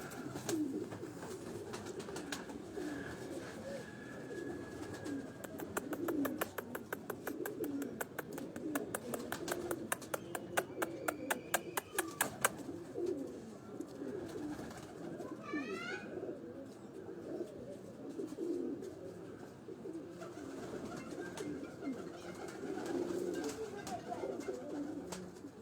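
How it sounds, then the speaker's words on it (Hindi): Pigeons from a Piplan bloodline coo and call in a rooftop loft, their soft low calls steady throughout while a voice talks nearby and sharp clicking flutters burst through the middle. "ये थोड़ी देर पहले दोस्तों ये कबूतर मैं आपको दिखा रहा था"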